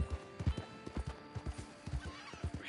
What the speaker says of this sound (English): We can listen to the horse freak out for every snake in that little snake alley there